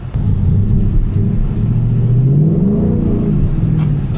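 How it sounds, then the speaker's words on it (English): A BMW X3M engine revs hard and climbs in pitch as the car spins out on slushy snow in a New York City blizzard, a loud, close, sustained roar that rises and then settles. "I kind of want to do like a little spin class in the car"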